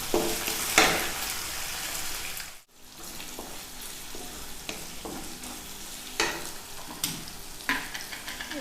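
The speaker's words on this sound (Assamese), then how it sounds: "এইখিনি অকণমান ৰঙচুৱা হোৱালৈকে ভাজি থাকিম" Ginger and garlic frying in a pan for an Assamese jackfruit seed curry, cooked until slightly reddish: continuous near sizzling broken by spatula scrapes and stirring clinks, with one brief drop to near silence.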